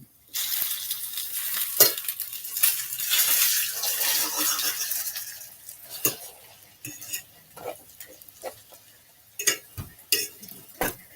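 Venezuelan arepas sizzle in a hot pan as they are flipped, with a steady hiss running underneath and several clattering knocks of a utensil against the pan close by.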